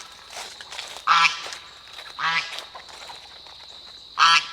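A domestic goose honking in a farmyard: three loud, harsh, nasal calls about a second apart with quieter grumbling between, close to the listener.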